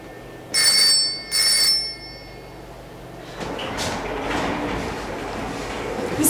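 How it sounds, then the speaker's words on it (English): A telephone bell rings two loud, close bursts in an old drama scene, followed by a quieter stretch of room noise and movement. "Phone's ringing."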